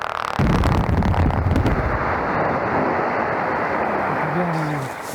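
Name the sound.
blasting explosion in a limestone quarry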